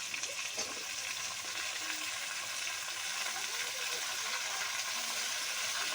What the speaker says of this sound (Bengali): এবার দিয়ে দিচ্ছি কেটে রাখা কুমড়ো শাক।